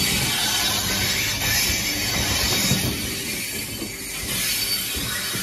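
A big train passes close by with loud continuous rolling rumble and high-pitched wheel squeal, steady throughout with no voices.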